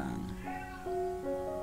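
An orange tomcat with an injured eye meows in a drawn-out, wavering call with a couple of pitch shifts, close and fairly loud against a steady background hum.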